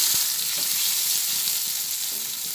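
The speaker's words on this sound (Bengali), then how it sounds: "টমেটো কারি পাতা একসঙ্গে ভাজা হচ্ছে।" Tomatoes and curry leaves frying in a pan for bread upma, a constant bright sizzle that holds steady from start to end, with a few faint knocks and no talking.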